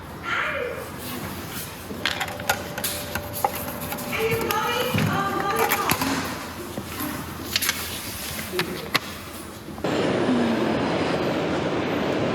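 A Melbourne train ride: a steady rumble of the rolling carriage with squeals and clicks of wheels on rail, and voices talking in the background.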